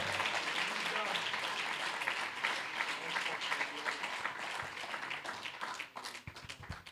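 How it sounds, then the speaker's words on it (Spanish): A congregation at a church convention service applauds for Jesus, a fairly faint, distant wash of many hands clapping that thins toward the end, with voices mixed in. "dele fuerte ese aplauso a Jesús"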